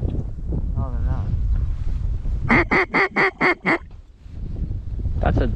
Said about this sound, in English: these are mallards over here, aren't they?